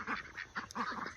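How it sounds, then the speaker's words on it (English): Farmyard poultry flock of seven ducks, a guinea fowl, one rooster and hens, giving repeated honking quacks in a steady, fairly close run of calls. "We got 7 ducks, a guinea, 1 rooster, and the rest is hens."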